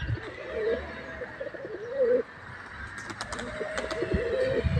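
Pigeons coo nearby in soft, throaty rolling calls, with a few brief chirps and faint background hiss.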